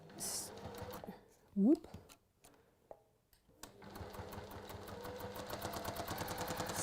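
Close sewing machine stitching down a folded 2-inch fabric strip, a quick burst at first, then a pause, then a steadily building run of rapid stitches, with a voice briefly speaking over it.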